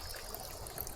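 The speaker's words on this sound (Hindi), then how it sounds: "ये देखो पानी टपक रहा है पूरा सीढ़ी से।" Water trickles down a flight of stairs in a hillside tribal settlement, a faint, steady running and dribbling wash heard briefly and alone.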